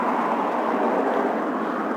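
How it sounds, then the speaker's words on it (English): Traffic on a town's main road roars past in a continuous broad wash of tire and engine noise, steady and fairly loud throughout with no talking. "Sorry about the road noise"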